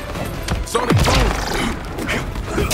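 Peacemaker's sonic boom attack in the fighting game Mortal Kombat hits with heavy thuds and a crashing impact, joined by sweeping whooshing tones, loud and punchy over the game's busy backdrop.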